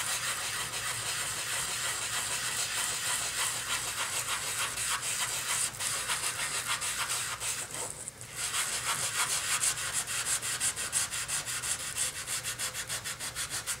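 Continuous rhythmic rasping of hand sanding, quick back-and-forth strokes close by, with a brief pause midway before the scrubbing resumes.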